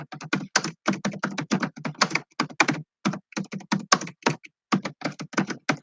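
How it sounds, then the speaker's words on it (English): Steady typing on a computer keyboard close to the mic, a quick run of crisp clicks in bursts with a few short pauses and no talking. "Let me type it here."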